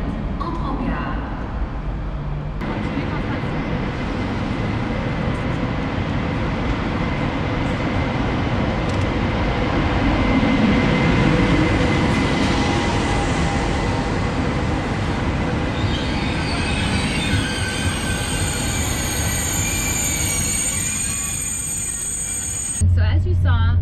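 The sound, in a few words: OUIGO train at a French station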